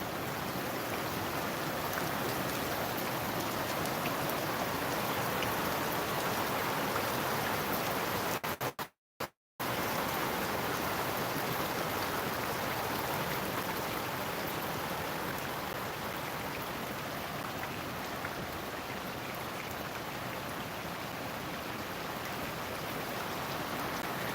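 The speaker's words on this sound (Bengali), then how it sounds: "এই কত সুন্দর বৃষ্টি" Heavy night rain in Dhaka pours down steadily in a dense, constant hiss, broken only by a sudden cut of near silence for a moment before resuming.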